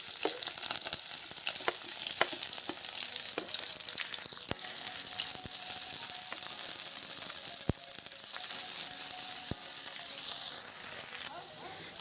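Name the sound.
onion frying in oil with golden-browned cumin seeds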